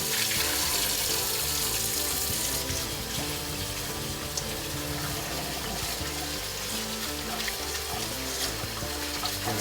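Tap water runs steadily into a kitchen sink as food for a Vietnamese sandwich is rinsed, a continuous close splashing wash that is fuller for the first few seconds and then slightly softer, with no talk.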